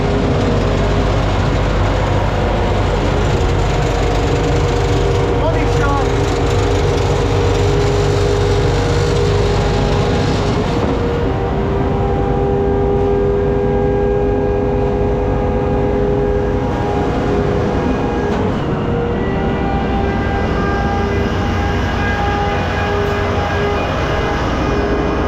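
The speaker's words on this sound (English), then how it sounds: "And both of these pumps are gonna be working." Two concrete pumps run together, pumping 500 cubic meters of concrete for a suspended slab, making a loud, steady mechanical drone that holds throughout with no talking.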